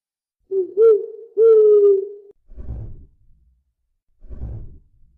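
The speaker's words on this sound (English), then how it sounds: "a mischievous little owl who perches between spirit and grimoire" A virtual owl familiar gives two drawn-out hooting calls, followed by two soft, low breathy puffs, all heard alone against silence.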